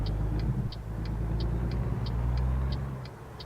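A Skot A2HD truck in American Truck Simulator rumbles with a low, steady engine drone, while a regular clicking indicator ticks about three times a second over it.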